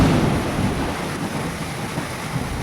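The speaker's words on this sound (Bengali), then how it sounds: "আমাদের এখানে তো মুষলধারে বৃষ্টি হচ্ছে আর দারুণ লাগছেও।" Torrential rain pours down across a street, making a continuous heavy roar with a low rumble and gusty wind buffeting underneath, steady and enveloping from start to end.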